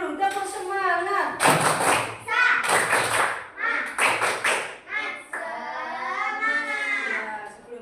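A fifth-grade elementary classroom doing a rhythmic spirit clap, with sharp bursts of group clapping in short patterned groups alternating with children's chanting voices, close and lively.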